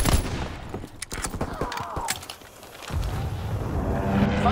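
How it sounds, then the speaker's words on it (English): Rapid bursts of gunfire from a strafing run in the Call of Duty WW2 game, with booming impacts and chaotic battle noise, fairly loud and continuous. "Fighter pilot inbound, strafing the target!"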